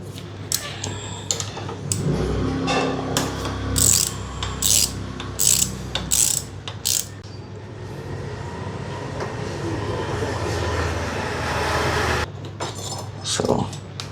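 A ratchet removes 10 mm bolts from the brake caliper of an RS 457 motorcycle, with bursts of sharp clicking and metallic rattles at close range over a steady background hum.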